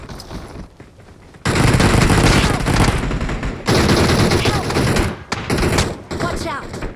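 Video game gunfire in a multiplayer match: dense bursts of automatic fire in long sustained volleys with brief gaps between them, loud and close, while players talk over it.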